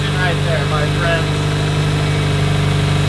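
A Subaru WRX engine idles smoothly with a steady, even hum throughout, close and loud, with a voice briefly speaking over it near the start.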